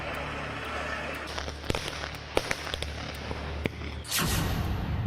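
Diwali firecrackers bursting in Delhi NCR, scattered sharp cracks and pops over a steady outdoor rumble, followed by a louder rushing burst near the end.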